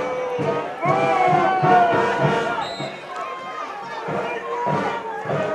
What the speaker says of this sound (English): The crowd isn't liking it